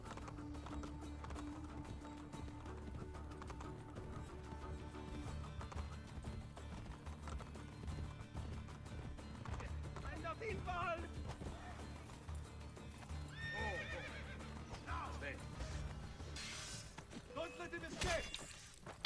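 Horse galloping and neighing in the video game Assassin's Creed Brotherhood, a steady clip-clop of hooves with several whinnies rising over game music and someone talking.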